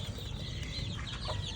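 Native chickens cluck softly inside a backyard coop, low scattered clucks and murmurs over a steady ambient hum, fairly faint and unhurried with no talking.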